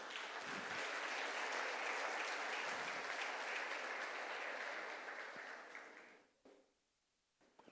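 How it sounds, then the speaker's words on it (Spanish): Loud, dense applause from a large church congregation, sustained for several seconds before quickly fading to near silence. "Denle el aplauso al Señor."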